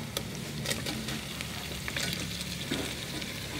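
Chicken feet for adobo hitting a sizzling pan, a loud continuous fry hiss with a few sharper crackles and stirring scrapes, close up and without talk.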